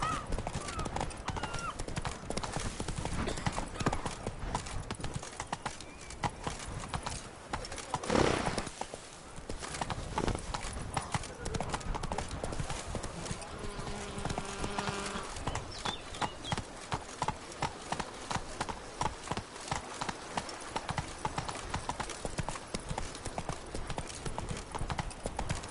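Roach, the horse in The Witcher 3: Blood and Wine, trots with a steady clip-clop of hooves throughout, joined by game music and effects and a short voice exclamation partway through.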